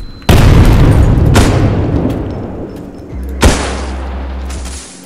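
Two loud booming video game explosions about three seconds apart, each a sharp crack followed by a long rumbling decay, with a steady low hum under the second.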